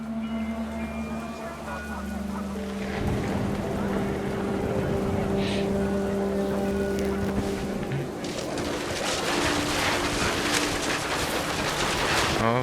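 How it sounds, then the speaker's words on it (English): Heavy rain falls in the video game What Remains of Edith Finch, a dense, loud, steady hiss that thickens and swells midway through, over low sustained musical tones. "The rain came down in buckets then"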